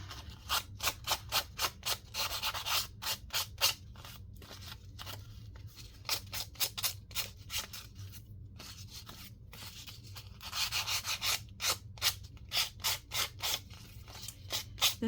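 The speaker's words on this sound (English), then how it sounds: "let me clean the edges off. One of these places has sandpaper." Sandpaper rubbing back and forth along paper edges in a craft project, a close, regular scratchy stroking rhythm of short rasps, steady over a low background hum.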